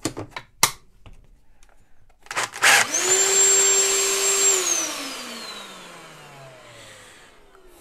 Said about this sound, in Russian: Ставим на пылесос.